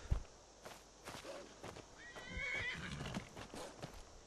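A horse in the video game Skyrim whinnies in a rising, then falling neigh amid clip-clopping hooves and game ambience, fairly quiet and heard alone without talk.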